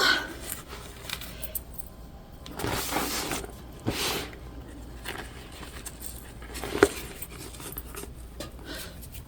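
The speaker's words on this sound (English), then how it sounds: "Grab our zipper pull." A small metal zipper pull is handled and slid onto a zipper while sewing a shoulder bag, giving scattered light metallic clicks and taps up close, with soft rustling between them and no talking.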